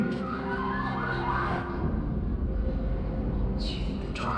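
An ambulance siren from the Among Us game, a loud continuous wailing tone sustained across the whole stretch, with a brighter burst near the end.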